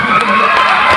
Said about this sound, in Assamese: এটা জোৰকে হাত চাপৰি মোৰ কাৰণে